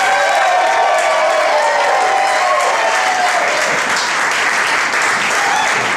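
Audience at a 50th birthday cabaret show applauding in a sustained, loud burst, with a few faint cheers and voices mixed into the dense clapping.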